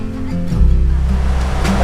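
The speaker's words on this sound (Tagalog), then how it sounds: "ang campsite na to ay nasa tabi nga lang siya ng ilog" A river flows beside a car campsite in Bulacan, giving a loud, steady rush of water that carries on without a break through the whole stretch.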